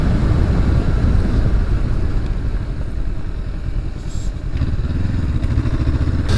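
A 2023 Honda SCL500 Scrambler motorcycle is ridden on the road, its engine droning steadily and close-up under heavy wind rush, with little change in pitch throughout.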